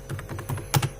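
Close, quick clatter of keys on a computer keyboard as Java code is entered, a burst of soft taps with one heavier keystroke near the end, no voices.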